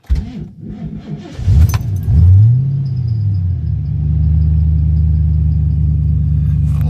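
A 1990 Ford Mustang LX Foxbody with an M80 exhaust, heard from inside the cabin with the doors closed: a brief rev swells, then a steady, loud low idle drones on, with a light jingle early on.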